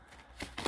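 A deck of tarot cards gets shuffled by hand, with two quick riffling bursts close to the mic, the second one louder, in an otherwise quiet room with no talking.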